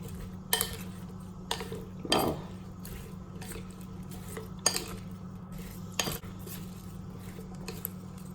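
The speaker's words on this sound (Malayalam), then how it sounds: "ഇനി ഇത് നമുക്ക് നന്നായിട്ടൊന്ന് മിക്സ് ചെയ്തെടുക്കാം" Fruit and vegetable salad with apple, pineapple and bell pepper being tossed with dressing, heard as a few sharp utensil clinks and scrapes against the bowl spaced over a low steady hum, with soft wet stirring between.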